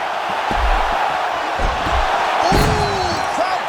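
Arena crowd in a UFC 6 video game swells into a loud roar over thuds and slams of two women fighters grappling, the noise sustained throughout and peaking midway with scattered cheers.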